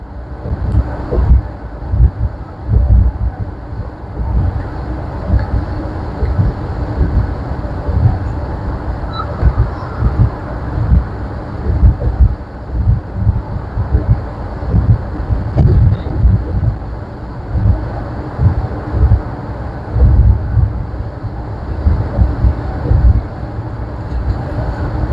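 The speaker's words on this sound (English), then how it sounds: "now you do get a little bit of wind noise" Inside a 2024 Roadtrek Chase camper van on the move, a steady low rumble of road and wind noise fills the cabin, with gusting swells and faint rattles, continuous and fairly loud with no talking.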